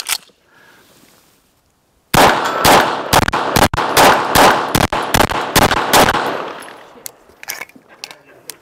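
Handgun shots at a shooting practice session, a rapid string of about a dozen sharp, loud cracks in quick succession after a brief quiet start, fading to scattered softer knocks.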